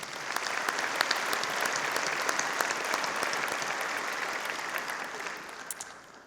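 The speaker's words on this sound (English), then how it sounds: "Let's give them a round of applause." An audience at a community chamber of commerce program applauds steadily, a dense, even wash of many hands clapping with no talk over it, easing off slightly toward the end.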